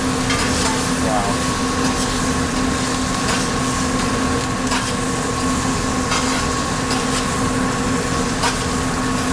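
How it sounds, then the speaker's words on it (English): Loud, close sizzling and spattering from fish frying in butter and herbs in a pan, continuous crackle with occasional sharper pops and a faint background hum. "we're basically kind of deep frying the top with this butter and herbs"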